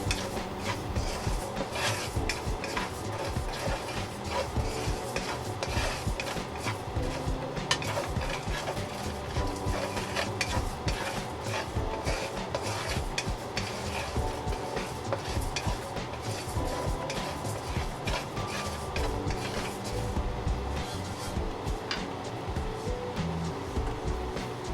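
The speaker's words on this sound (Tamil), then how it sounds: "வெள்ளை அரிசி, இதையும் ஒரு 6 நிமிஷம் போல் வறுத்தெடுங்க." White rice dry roasted in a pan for sambar powder, a steady scraping stir with light grainy rustle and faint clinks running continuously at low level, no talking.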